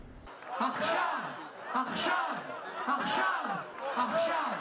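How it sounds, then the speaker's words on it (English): A large crowd at a Tel Aviv rally for hostages held by Hamas chants in Hebrew, a steady rising-and-falling group chant repeating about every second, loud and continuous. "A crowd in Tel Aviv, Israel, rallying in support of the Israelis and others held hostage by Hamas for a month now, chants in Hebrew, Achshav, Achshav"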